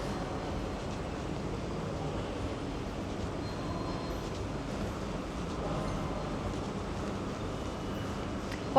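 An underground metro train runs through a tunnel in Rome, a steady, loud rumble of wheels and carriage noise that holds evenly from start to finish with no voices.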